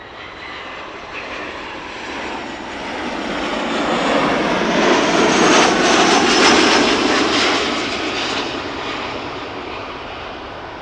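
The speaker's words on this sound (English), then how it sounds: "let's have a look at the Nippon Cargo 747A that is taking off from runway center right now" A Nippon Cargo Airlines Boeing 747-8 takes off at Amsterdam Schiphol, its jet engines swelling into a loud, broad roar that peaks mid-way and then slowly eases as the aircraft climbs away.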